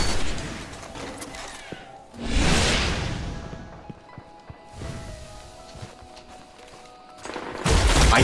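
Shotgun blasts and gunfire in a Destiny free-for-all match, with a couple of loud booming bursts separated by quieter stretches of game ambience and whooshing effects.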